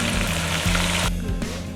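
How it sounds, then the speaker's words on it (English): Red chili sizzling in a pot on the stove, a loud close continuous frying hiss with low bubbling beneath, steady throughout with no talking. "Sizzle, sizzle. Sizzling."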